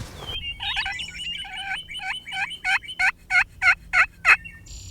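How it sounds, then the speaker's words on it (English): Wild turkey gobbler calling from brush near a staging area, first a rough rambling run of notes, then a rhythmic series of eight or so loud, evenly spaced gobbles rising in strength, heard alone at moderate distance. "we've seen group after group of turkeys move in and out"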